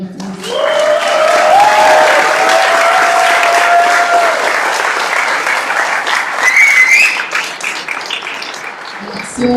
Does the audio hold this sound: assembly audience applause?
yes